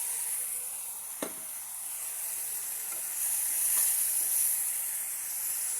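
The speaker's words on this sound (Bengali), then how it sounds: "এখন দিব টমেটো।" Tomatoes dropped into a hot pan of fish and spices sizzle steadily with a hissing fry and a few soft stirring knocks, close and alone.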